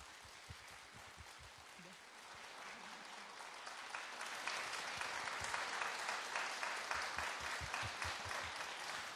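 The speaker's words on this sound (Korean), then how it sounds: "아르키움의 대표 김인철 교수님 따뜻한 박수로 환영해 주시기 바랍니다." Sustained audience applause welcoming a guest architecture professor onto a Korean talk show stage, steady and dense at first and swelling louder through the second half, with no talk over it.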